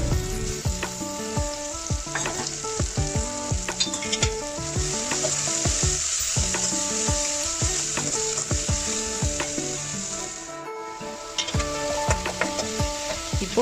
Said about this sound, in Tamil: வெங்காயம் தக்காளி நல்லா வதங்கினதும் இஞ்சி பூண்டு பேஸ்ட்டு சேர்த்து நல்லா வதக்கிக்கலாம்.